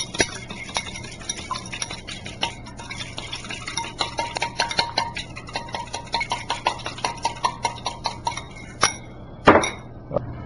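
Beaten eggs whisked for an omelette, a fork or utensil clinking rapidly against a bowl in a steady rhythmic series of close, bright taps, with a louder knock near the end.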